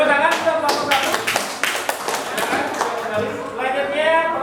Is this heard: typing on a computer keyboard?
no